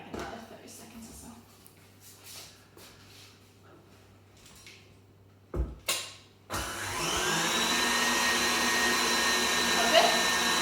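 Electric whisk beating oil and sugar in a bowl, a steady loud whirring drone that starts abruptly partway through after scattered quiet kitchen clatter and bumps, then runs continuously to the end.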